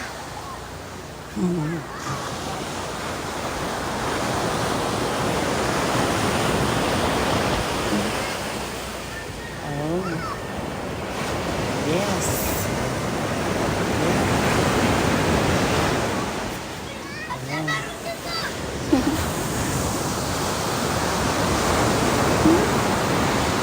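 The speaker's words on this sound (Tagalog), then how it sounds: "Ang lakas ng alon." Strong ocean waves crash and wash continuously on Nasugbu beach, Batangas, Philippines, a loud broad roar surging and receding, with brief voices heard over the surf.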